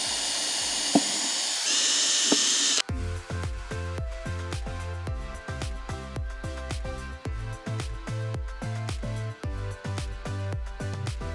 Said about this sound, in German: Ich muss alle 1131 Löcher vorbohren. Dafür benutze ich meinen Akkuschrauber.